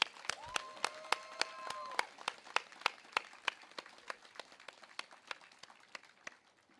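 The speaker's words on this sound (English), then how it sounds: "can we please have a round of applause for Salvador Camanu Ruiz III." Applause from a graduation ceremony audience for a medical class, sparse and fading into scattered individual claps, with a brief faint voice near the start.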